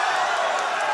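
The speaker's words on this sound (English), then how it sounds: "A little jab from Chikh Mousa, the crowd goes nuts." A kickboxing arena crowd at a GLORY featherweight title bout roars in a loud, continuous wash of cheering that lasts the whole brief moment.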